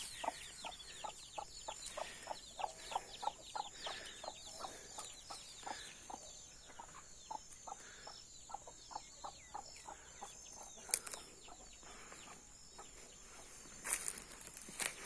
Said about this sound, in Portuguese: 3 pintinhos.